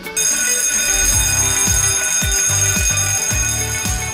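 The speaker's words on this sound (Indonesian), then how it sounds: "Jika Anda mendengar alarm berbunyi" An emergency alarm bell rings continuously and loudly in an office building, a harsh metallic jangle with rhythmic low pulses beneath it, nearby.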